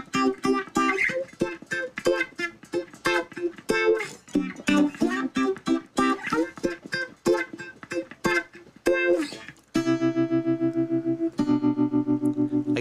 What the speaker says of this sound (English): Here's the wah effect.